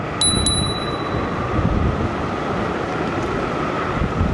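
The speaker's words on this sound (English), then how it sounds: "Go ahead and use our bell here." A bright bell on an Apollo City Pro electric scooter rings twice in quick succession during a hill climb, over a steady rushing hum of wind and motion.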